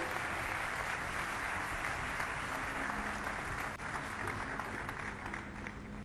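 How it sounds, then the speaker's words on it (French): Sustained, dense applause from a ceremony audience, loud and steady throughout with no voices over it. "Je vous demande solennellement d'applaudir très fort Madame Ndeye Aïta Sarr"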